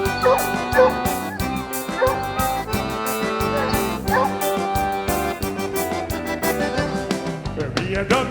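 Dog barks ring out amid loud, lively band music with steady accompaniment, the barking mixed into the full-band sound rather than standing alone.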